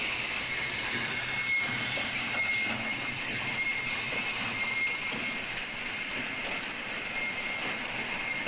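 A crude oil freight train rumbles past at a moderate distance, wheels clattering and squealing faintly on the rails over a steady hiss, with no talking.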